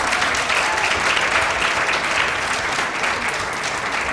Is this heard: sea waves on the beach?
no